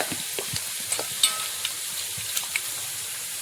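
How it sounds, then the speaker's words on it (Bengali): Spice paste sautéing in oil for a river fish curry, a soft sizzle with intermittent scraping stirs and small pops, fairly quiet and close, no speech. "মশলাটা ভালো করে কষিয়ে নিয়েছি, এখন তো তেল হয়েছে"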